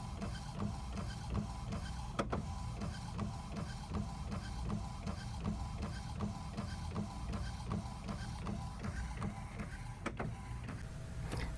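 An Epson inkjet printer fitted with refillable T252 cartridges prints steadily, its print head shuttling back and forth in a regular rhythmic whir with two sharp clacks, close and alone.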